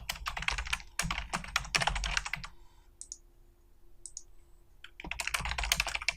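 Typing on a computer keyboard, bursts of rapid close clicking keystrokes, a pause of about two and a half seconds with only faint hum and a few soft taps, then quick typing resumes.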